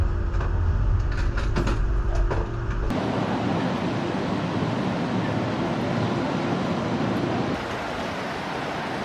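Rumbling rail noise of a Bilbao tram rolling over a crossover while switching tracks, a heavy low clatter over the joints that shifts midway into a steadier broadband roar, loud and close.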